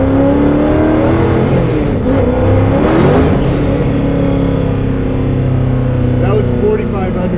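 A 1650 hp Speedkore Tantrum Charger revs hard and accelerates, its engine roaring loud and close the whole time, with the tires breaking loose as it pulls.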